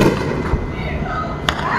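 Two muffled, distant booms about a second apart cut through a noisy night backdrop as missiles are intercepted over Jammu during a blackout, and voices may be faintly present underneath.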